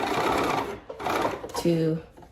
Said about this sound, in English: So when I serge them